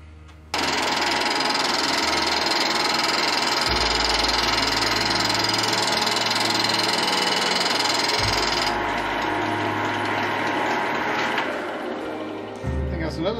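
Small grinder cleaning up the face of a spalted timber bowl on a wood lathe, a steady high mechanical whine and hum running close and loud for most of the stretch before easing near the end.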